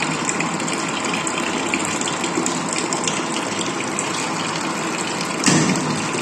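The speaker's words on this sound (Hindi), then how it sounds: "अभी मोटर आपकी ऑन हो गई" Automatic water pump motor for a tank, running with water gushing and flowing steadily, a loud continuous rushing noise with a brief surge near the end.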